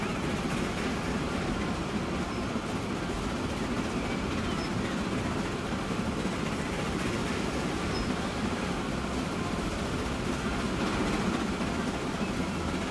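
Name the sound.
train riding along coastline in video game Transport Fever 2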